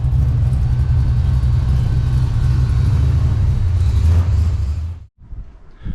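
A Holden VL Calais race car engine idles with a loud, steady low rumble and slightly uneven throb, then drops away suddenly near the end before faintly returning.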